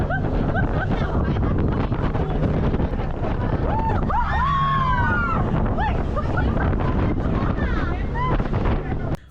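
A speedboat on a Phi Phi Island tour pounds over open sea, with a constant roar of engine and wind buffeting the microphone and a few faint shouts and cries from passengers rising over it.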